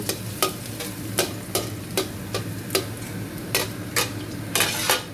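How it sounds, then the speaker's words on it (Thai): Garlic stir-frying in a little oil in a pan for a Thai minced pork and long purple eggplant dish, with a steady sizzle punctuated by regular scraping strokes of a spatula, close and alone. "ใส่น้ำมันนิดหน่อยนะคะ แล้วก็ใส่กระเทียมเลย ผัดกระเทียมให้หอม"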